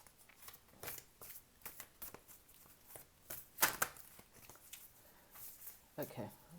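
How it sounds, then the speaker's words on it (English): Tarot cards are shuffled by hand in quick bursts of crisp riffling and slapping, close and fairly soft, with a louder flurry in the middle and brief pauses between. "I just feel like the cards need to be shuffled a little bit more"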